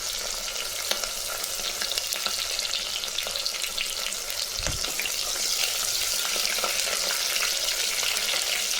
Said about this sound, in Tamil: கம்மியான தீ வச்சு வதக்குங்க வெங்காயம் கறிவேப்பிலை பூண்டெல்லாம் வதங்கிடுச்சு